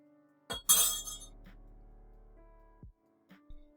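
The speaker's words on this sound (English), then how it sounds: "Give it a stir." A spoon stirs salted caramel iced coffee in a glass, with bright clinks against the glass at the start followed by a ringing tone that fades, then a couple of light taps near the end.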